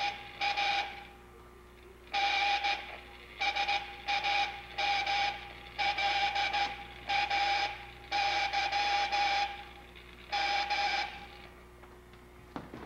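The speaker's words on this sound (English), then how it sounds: "it's automatically sending the Morse code message, and it will repeat it over and over again." A vintage automatic Morse code sending machine repeats its message over and over: steady beeping tone bursts in short and long groups, clear and fairly close, with a low hum under them and no talk.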